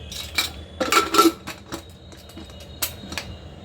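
A metal lid is set onto a cooking pot on a home kitchen stove, giving a cluster of close clinks and scrapes of metal on metal, then a few lighter clatters afterward.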